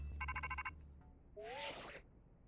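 In the Pokémon Legends Z-A video game, a phone rings with a pulsing electronic ringtone, followed by a short rising synthetic chime and a burst of noisy game sound effects, all fairly faint.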